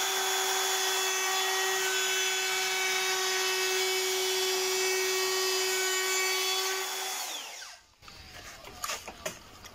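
A router fitted with a bearing-guided bit cuts a 4 mm deeper pass along a workpiece edge, a steady high whine with a sustained tone that runs loud and continuous before spinning down near the end, followed by a few clicks.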